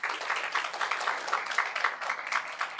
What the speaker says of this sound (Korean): 우리 발표하신 김민성 군, 변보연 양에게 다시 한번 격려의 박수 부탁드립니다